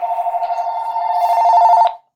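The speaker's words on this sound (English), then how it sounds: "my phone is ringing" A phone rings loudly and close by, one steady electronic ring with a fast warble that holds for about two seconds and then stops abruptly.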